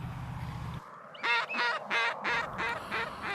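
Geese honk over a hunting field, a run of about six loud, close calls in a quick uneven rhythm after a brief stretch of low background hum.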